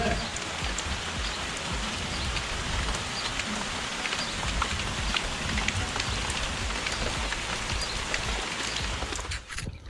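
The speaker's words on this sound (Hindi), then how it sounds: "बारिश हो रही है।" Heavy rain pours in a village in Pauri Garhwal, a dense, steady hiss of drops striking surfaces that continues evenly throughout, close and loud with no pauses.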